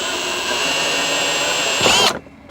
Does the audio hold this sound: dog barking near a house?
no